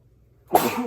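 A single sharp sneeze bursts out after near silence, loud and close, then tails off into a breathy release.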